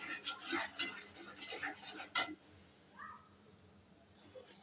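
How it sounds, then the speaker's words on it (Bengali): Desi chicken with spices sautéed in a pot, with spoon scrapes and clinks against metal for about two seconds, then near quiet with a faint short squeak. "এখন সুন্দর করে কষে নেব"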